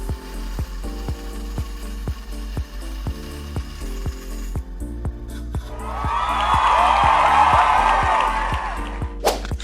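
A bandsaw cuts wooden shuriken pieces: a steady rhythmic ticking under music gives way to a rising, gritty whine as the blade bites into the wood, loud and close.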